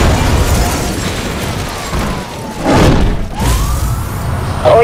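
EMP blast in the racing game Need for Speed Hot Pursuit Remastered: two heavy, booming bursts crackle through midway, over a steady roar of engines and a faint police siren wail, with no talking.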